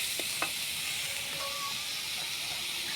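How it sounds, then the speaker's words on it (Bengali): Ginger, garlic and spice paste frying in a pan: a steady, faint hiss of sizzling oil with a couple of light clicks near the start, no voices. "দিয়ে ভালো করে কষিয়ে নেব, যাতে আদা রসুন মশলার কাঁচা গন্ধটা যেন সব চলে যায়।"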